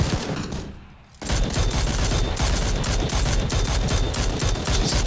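Rapid bursts of gunfire in PUBG crackle in a dense, sustained volley after a short quiet moment, loud and close with no talk over it.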